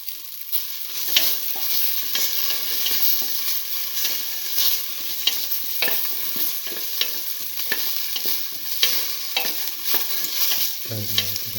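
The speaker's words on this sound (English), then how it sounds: "stir with the rest of the meat" Tomato pieces and meat sizzle steadily in a hot pot for a mint potato stew while a spoon stirs through them, scraping and clinking softly over a constant close hiss.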